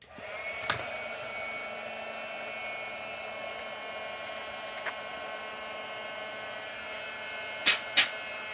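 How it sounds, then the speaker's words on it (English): A heat gun for card crafting runs as a steady, even airflow roar with a faint mains-like hum, holding constant throughout with a few brief clicks and knocks near the start and end. "I'm going to turn on my heat gun just so as I get it going and get it warmed up."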